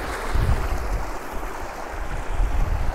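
Fast-flowing stream in the Lake District on a wet day, heard as a steady, loud, close rushing of water with a deep churning low rumble, and no voices.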